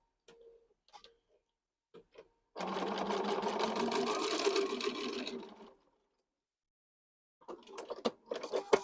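A sewing machine stitches pieces of fabric together in one steady three-second run, a close, fast mechanical whir with rapid ticking. Scattered clicks and handling sounds come before it, and after a short pause it starts up again in short bursts.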